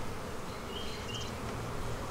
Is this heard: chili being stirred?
no